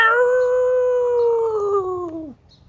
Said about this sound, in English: And Duke let out sort of a Scottish growl howl that somewhere came from deep in his ribs.